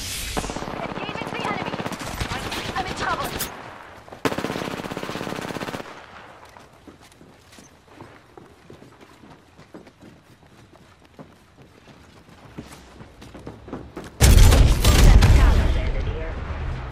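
Gunfire in the shooter game Apex Legends: loud bursts of rapid automatic fire at the start, a quieter stretch of footsteps and distant shots, then another heavy booming volley near the end.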